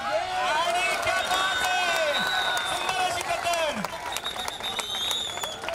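A crowd at a kabaddi match claps and cheers in a continuous, lively wash, with a commentator talking loudly over it throughout.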